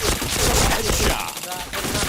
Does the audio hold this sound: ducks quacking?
no